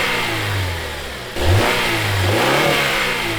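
Honda CL9 engine fitted with a K&N air filter, revving steadily and loudly up close, then dipping and rising again in a strong intake growl.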